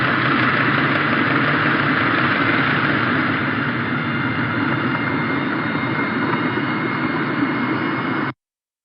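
A ship's engine recorded underwater gives a steady, dense broadband rumble and hiss that holds loud and unchanging for about eight seconds, then cuts off abruptly.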